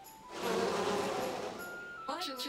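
A bee buzzing in the SteamWorld Quest video game: a steady, droning hum that holds for about two seconds before a brief shift in tone at the end, heard without talk.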